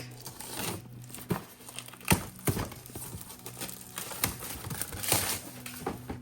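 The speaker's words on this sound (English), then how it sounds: "Taking my knife here, carefully cut through the plastic." A knife slices through the plastic packaging of a tabletop terrain pack, producing a series of close, sharp crinkles and tearing scrapes in uneven bursts.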